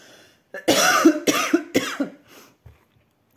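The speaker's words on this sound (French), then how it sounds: "Excusez-moi, je tousse encore." A burst of several harsh, close coughs in quick succession, then a quiet breath and a small click.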